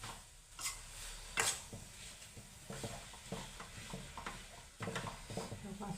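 Coconut barfi mixture cooking in a pan on a low flame, with a soft sizzle and steady scraping and stirring strokes close by.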